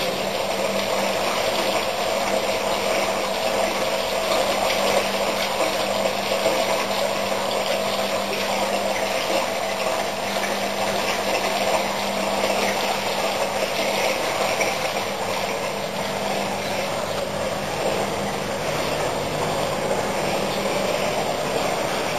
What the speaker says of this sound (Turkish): burada çok güzel bir şekilde yapılmış bir de şelalemiz bulunmaktadır